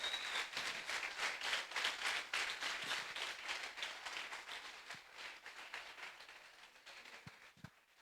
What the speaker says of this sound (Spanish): Ya vas a aplaudir.